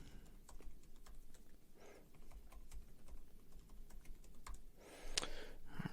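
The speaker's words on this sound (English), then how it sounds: "you can just type in any type of password" Keystrokes on a computer keyboard as a password is typed, a quiet run of soft, irregular clicks over a faint steady background hum, with a brighter burst of clatter near the end.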